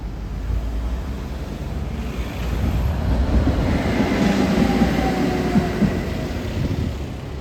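A tram rolls through Prague in the evening, a loud, close, continuous rumble with wheel noise that swells midway and carries a faint squeal from the rails.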